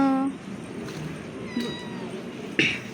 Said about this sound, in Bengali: ভুতু বিড়ালি কেন উঠছো এত উপরে